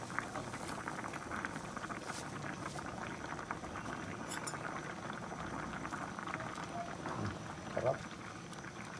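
Pot of mung bean stew with coconut milk boiling on the stove, a steady close bubbling and popping throughout, with a brief spoken word over it.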